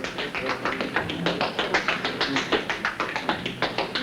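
A jazz hoofer's tap-dance rhythm turn sounds as a steady, even stream of crisp shoe taps on a hard floor, close and clear, with no voices.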